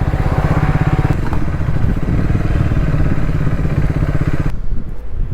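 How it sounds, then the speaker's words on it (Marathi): A Triumph Speed 400 motorcycle idles loudly and close with a rapid, even engine pulse while it is moved aside to be parked, then the engine cuts off near the end. "आणि मग आता बाईक थोडंसं कुठेतरी साईडला लावतो"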